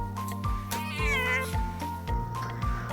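A cat meows loudly and clearly several times in a row, close up, with one longer wavering call among shorter repeated ones and no talking.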